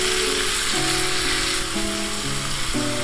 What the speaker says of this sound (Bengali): এবার কুচি করে রাখা কাঁচা লঙ্কা আর ক্যাপসিকামটাও আমি ছেড়ে দিলাম। ওইভাবে নেড়ে চেড়ে নিচ্ছি কিছুক্ষণ।